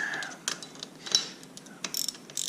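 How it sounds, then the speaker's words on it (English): Ratchet clicks quietly and close in short irregular bursts while tightening carburetor bolts on a Taotao ATV, with brief pauses between strokes. "So I got the carb back on. I'm just going to finish tightening everything up."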